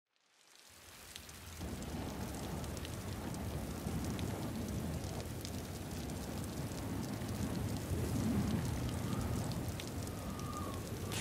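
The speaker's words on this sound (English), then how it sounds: "Oh, I don't remember it raining." Heavy rain pours steadily in the video game Vermintide 2 after a quick fade-in, with low rumbles of thunder rolling beneath the constant hiss.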